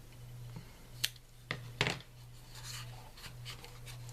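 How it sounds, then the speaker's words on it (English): Scissors or a blade trimming thin material for a two-layer jewelry box, a few sharp close snips and rustles spaced irregularly over a low steady hum in a quiet room. "So I'm going to cut it down just a tiny bit."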